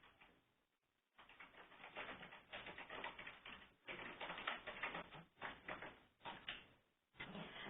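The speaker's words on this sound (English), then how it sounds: "now I can type in a little bit of information about me." Dense, continuous clattering of keys on a keyboard as text is typed, broken by a few short pauses, close and muffled with a narrow, low-fidelity tone and no voices.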